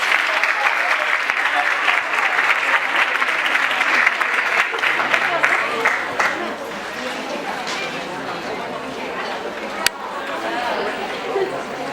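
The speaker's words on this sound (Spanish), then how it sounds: "le damos la bienvenida y un fuerte aplauso al profesor licenciado Daniel Feldman" An audience at a provincial literacy and literature congress applauds loudly and continuously to welcome a lecturer, dense clapping with crowd chatter that eases slightly toward the end.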